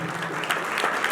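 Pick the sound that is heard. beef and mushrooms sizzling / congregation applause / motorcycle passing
congregation applause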